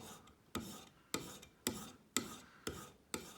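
Harbor Freight chisel bevel pushed and pulled across a sharpening stone, a quiet, regular rasping stroke repeating about every half second, each scrape starting sharply and fading.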